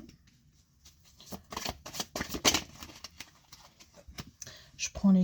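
Tarot cards being shuffled and cut by hand, a series of crisp riffling and slapping bursts close up, with a voice talking at times.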